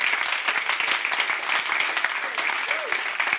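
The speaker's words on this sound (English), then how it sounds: "Come on, clap your hands one more time in Jesus' name." A church congregation claps hands together in dense, sustained applause that runs steadily throughout, loud and close, with a brief voice rising faintly within the clapping.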